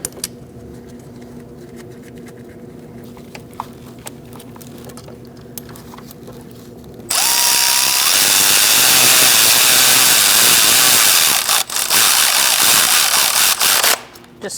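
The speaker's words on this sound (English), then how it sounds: "Now we're going to put our fuel rail bolts in." A power tool snugs the aluminum fuel rail bolts on a 2008-2014 Mercedes-Benz C300 3.0L V6 engine. A quiet background hum comes first, then a loud continuous whir runs for about seven seconds and stops abruptly.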